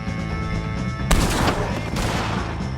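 Gunfire erupts in a Red Dead Redemption 2 shootout against O'Driscoll gang members, a loud burst of rapid shots over a humming game soundtrack, with a second volley following shortly after.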